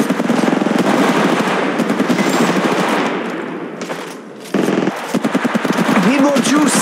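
Rapid machine-gun bursts in Apex Legends Mobile rattle loud and close, dense fire that eases off briefly before resuming with more shots, while a voice speaks over the gunfire.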